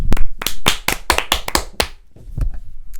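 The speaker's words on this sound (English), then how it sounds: "We have to give Cunha the round of applause" Podcast hosts clap a quick round of applause together, a burst of sharp, close hand claps for about two seconds, then a few scattered softer claps trailing off.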